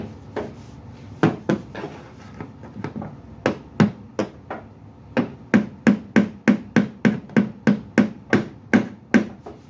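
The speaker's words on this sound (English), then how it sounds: "Kind of try to poke at it with a hammer." Repeated hammer blows on the wrinkled steel quarter panel of a 1978 Trans Am, sharp metallic knocks coming irregularly at first, then in a steady, fairly loud rhythm of about two strikes per second, close up with no talking.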